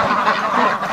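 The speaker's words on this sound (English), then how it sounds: "Look at this stupid duck here." A duck in a pen on a bitterly cold winter day gives loud, close, raspy quacks in a steady unbroken run.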